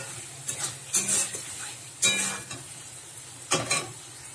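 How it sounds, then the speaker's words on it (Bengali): Spice paste for a Bengali crab curry sautéed in oil, with several bursts of sizzling and scraping as the spoon works the masala, separated by quieter gaps of low frying. "দিয়ে ভালো করে মশলাটাকে কষিয়ে নিচ্ছি"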